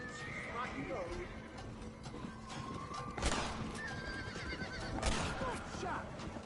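Horses neigh and whinny in the Red Dead Redemption video game, clip-clop hoofbeats and game sounds mixed in, with someone talking over the action.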